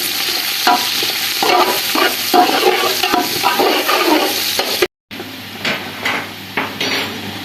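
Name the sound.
onions frying in ghee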